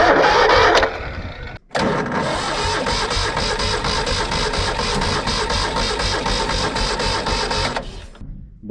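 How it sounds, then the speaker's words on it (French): A Citroën 2CV starter motor cranks steadily and loudly for about seven seconds without the engine catching, after a brief earlier burst and pause. "Le démarreur aussi déconne, donc il faut que je lui donne une petite secousse."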